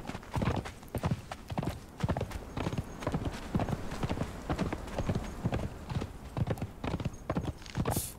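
A horse gallops in the video game Conan Exiles, its hooves pounding in a fast, steady rhythm at close range, with a faint whinny near the end and light background sound.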